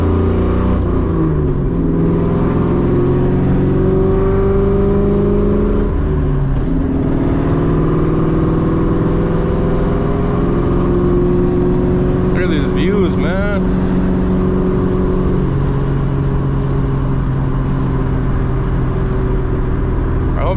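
Straight-piped 2003 Ford Mustang GT V8 driving down the road, a loud continuous low exhaust drone that rises and falls with throttle changes, with someone talking over it at times.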